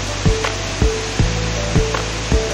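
A swollen river rushes after a dam release, a loud, unbroken roar of water broken by regular dull thumps about every half second.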